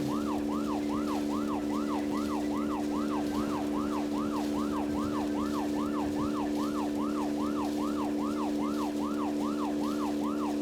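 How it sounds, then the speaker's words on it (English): A police siren wails steadily with a regular rising-and-falling pattern while a car boosts in the video game Deadly Premonition, looping continuously over an engine hum for the whole stretch, loud and close. "It really is a shame that boosting is the siren"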